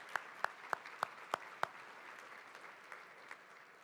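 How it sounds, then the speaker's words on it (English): Applause from a luncheon audience at a business awards event, opening with a few sharp, distinct claps and then settling into a faint, thin patter that fades within a few seconds. "Let's give them all a big round of applause"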